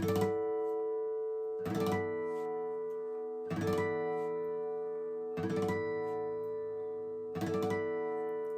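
Five bell-like guitar harmonic chords ring out one after another, each struck together across all strings and left to decay before the next.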